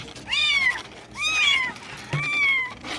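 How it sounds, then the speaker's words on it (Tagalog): Three young kittens, left without their mother, give three distinct high, rising-then-falling meows in close succession, loud and near with no talking over them. "Meow, meow."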